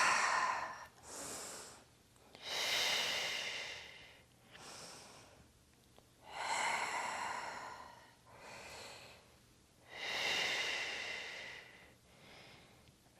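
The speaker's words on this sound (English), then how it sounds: "Inhale up. Exhale forward." Slow, deep breaths in and out during an arm exercise in a bodyweight home workout, with several long airy inhales and exhales alternating at a steady pace, close and fairly loud, no talking.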